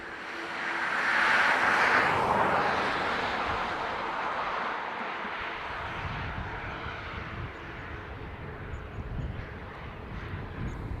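A Pegasus Airbus A320neo from Istanbul arrives on the north runway at Dublin Airport, its jet engines a broad rumbling roar that swells then slowly fades, heard from a short distance with some wind noise.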